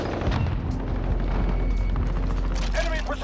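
Precision airstrike explosions in Call of Duty Modern Warfare, heavy booming rumble with overlapping blasts sustained throughout, loud and close, with a voice speaking over it.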